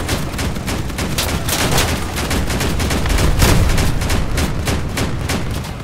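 Cannon and gunfire from armed vehicles in a Crossout battle, a rapid barrage of loud sharp bangs that overlap in quick succession throughout.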